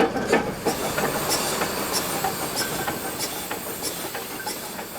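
The Achensee Railway train in Tirol, Austria, climbing toward the highest point of its route near Eben, rumbles steadily up close with hissing and rhythmic wheel clicks, no voices.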